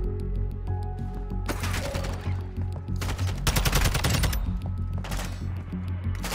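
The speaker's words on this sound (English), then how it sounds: "Who's shooting?" Gunfire in the Call of Duty DMZ video game, several bursts of rapid automatic shots at moderate distance, separated by short pauses over game ambience.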